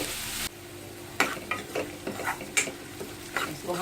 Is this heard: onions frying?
yes